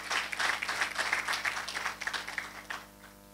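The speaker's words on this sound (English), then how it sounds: "Let us give him a round of applause." A crowd applauds with dense, steady clapping that swells briefly and then tapers off toward the end.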